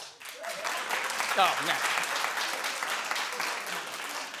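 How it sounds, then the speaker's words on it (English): Studio audience at a daytime talk show clapping in a broad, steady wave of applause, with a brief exclamation and voices mixed underneath. "Now all of a sudden everybody claps."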